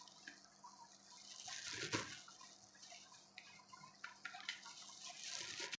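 Water trickles and splashes into a container holding hyaluronic acid powder in uneven pours, quiet and close, with small drips and clinks.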